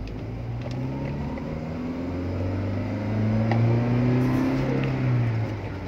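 A 2012 Toyota Kijang Innova 2.0 G manual pulls away from about 10 km/h in second gear, its engine drone rising steadily in pitch and loudness from inside the cabin.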